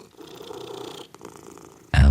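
A black tomcat purrs with a steady low rumble across most of the moment, cut off by a sudden loud thump at the end.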